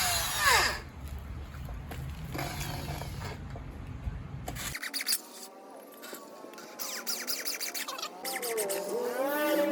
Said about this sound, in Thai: สว่านเจาะครับ